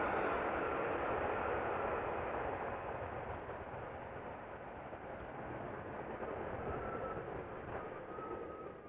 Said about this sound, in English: another airplane is moving onto the glide slope up ahead